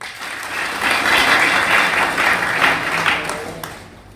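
A crowd applauds the new leader of the Inter Stars club at a gathering, dense steady clapping that holds for about four seconds and then thins and fades away.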